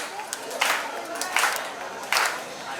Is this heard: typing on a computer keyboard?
no